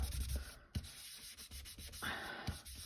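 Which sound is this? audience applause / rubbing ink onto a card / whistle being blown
rubbing ink onto a card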